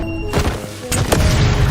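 Explosions in a war film: two sharp blasts land close together, followed by rumbling debris and noise as the second burst settles.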